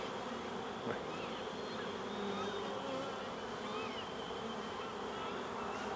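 A steady, dense drone of many honey bees buzzing close by during an open hive inspection while a honey super is added, continuous and fairly loud with no talking.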